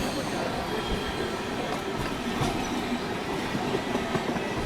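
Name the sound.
Ratnachal SF Express train with LHB coaches running on track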